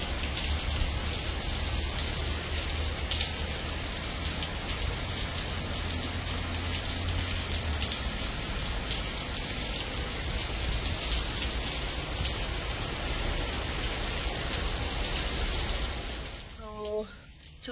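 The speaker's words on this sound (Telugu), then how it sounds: "ఇంటి దగ్గర కూడా చాలా వర్షం పడుతుంది" Heavy rain pouring outside a house, a dense continuous hiss and patter that holds steady and loud throughout before cutting off abruptly at the end.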